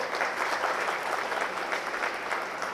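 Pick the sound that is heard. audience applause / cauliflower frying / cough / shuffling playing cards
audience applause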